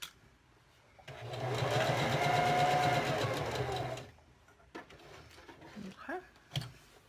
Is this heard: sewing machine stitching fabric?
yes